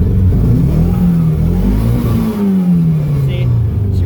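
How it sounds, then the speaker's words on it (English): A 1991 Isuzu Impulse RS engine revved in place, close and loud, with the pitch climbing through a rev and then sliding back down toward idle, while a person talks faintly in the background. "We'll go ahead and rev it up a little bit for y'all."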